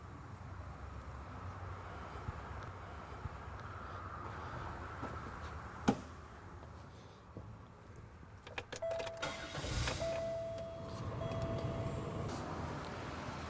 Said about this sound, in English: Next, we're going to start the vehicle.